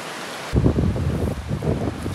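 A mountain river in the Ural mountains, a rushing, broadband wash of flowing water that surges in after half a second and stays loud and close, with no voices.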